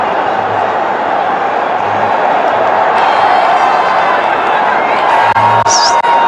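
Spectators at a cricket stadium during an India versus New Zealand Champions Trophy final raise a steady, broad crowd roar with scattered cheers and whoops, a dense hubbub that keeps going throughout and swells slightly near the end.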